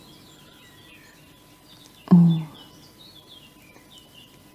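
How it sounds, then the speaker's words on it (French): Birds chirp and twitter in a natural outdoor soundscape with trees, light high calls scattered throughout, while a single short spoken word cuts in briefly near the middle. "entendre le chant des oiseaux"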